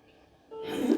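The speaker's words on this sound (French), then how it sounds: "inspirez par le nez" A single audible inhale through the nose during yoga triple breathing, starting faint and swelling into a close breathy rush over about half a second, with no speech.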